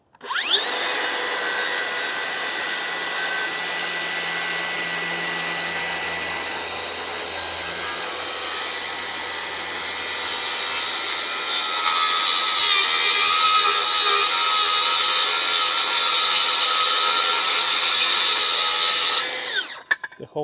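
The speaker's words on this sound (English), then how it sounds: "some loud sawing ASMR. The stuff you love." A power saw cutting through a wooden plank during construction of a stand for a water container: one long, loud, continuous high-pitched whine and rasp, close up, running steadily for about nineteen seconds before stopping abruptly.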